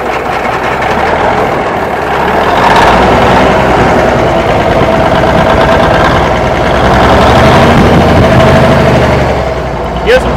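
A Peterbilt 359 truck's diesel engine, just started after a wreck, idles loud and close with a steady rumble that swells in the middle, while people talk over it.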